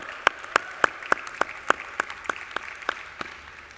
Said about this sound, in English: Round of applause, please, ladies and gentlemen.